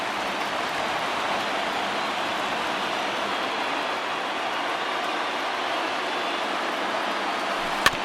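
Heavy rain pours steadily over a baseball field in MLB The Show 20, an even, dense wash of noise that runs unbroken, with one sharp click near the end.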